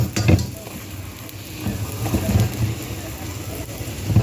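Chapati frying in oil on a pan over an open fire, a steady crackling sizzle with soft stirring or scraping touches and a few louder bursts, close by and without talk.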